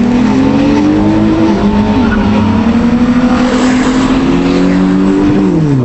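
A car races at high speed through a traffic-light intersection, its engine loud and continuous with rising and falling revs, and brief tire squeal as it weaves past another car pulling out.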